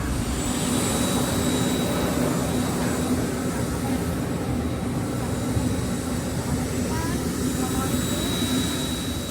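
Lion Air passenger jet engines running on the apron during stair boarding for flight JT369 from Medan to Jakarta: a loud, steady, continuous roar with a thin high whine that never lets up.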